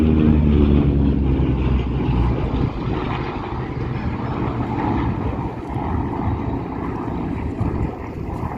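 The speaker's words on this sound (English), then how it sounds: "The Bearcat was designed as a hot rod. It was meant to be one of the fastest propeller aircraft in the service, and as Huggy mentioned" Grumman F8F Bearcat propeller fighter flying at the Central Coast Airfest 2023 air show: a steady droning engine roar, loud at first and slowly easing, with an announcer talking over it.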